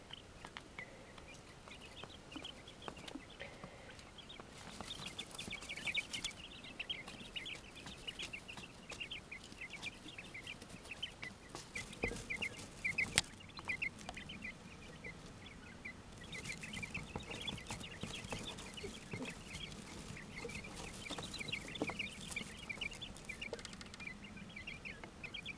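Young quail in a brooder scratch and dig through their bedding, a steady close rustle with frequent small chirps and clucks running throughout.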